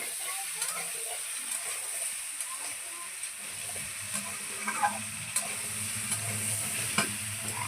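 Vegetables for a vegetarian dish seasoned with ginger fry in a pan with a steady, moderately loud sizzle, punctuated by light clicking stirs of a spatula.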